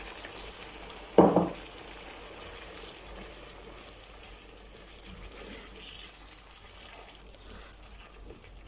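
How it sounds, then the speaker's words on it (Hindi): Water splashes into a pan of chicken liver cooking with chickpeas, giving a sharp burst followed by a steady, fairly quiet sizzle and bubbling that continues on its own. "थोड़ा सा इसके अंदर पानी ऐड करते हैं जी।"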